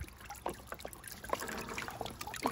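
Water trickles and splashes faintly in a Little Tikes Spiralin' Seas plastic water table, with small irregular drips and gurgles coming close together and quietly.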